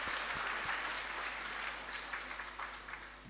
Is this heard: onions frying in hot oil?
no